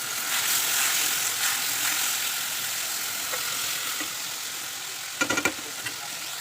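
Small fish frying in a pan with kalonji seeds and onion, a bright steady sizzle close by that slowly eases, with a short burst of scraping stir near the end.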